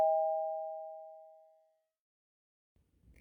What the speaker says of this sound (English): Right on cue, the doorbell rings.